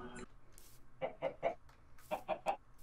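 Chickens in the Minecraft video game give two quick bursts of three clucks each, close and moderately loud against a quiet background.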